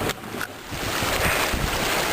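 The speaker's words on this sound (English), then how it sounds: "It is freaking windy." Strong wind roars and buffets outdoors after a flash flood, a steady broadband rush with microphone wind noise building and staying loud throughout.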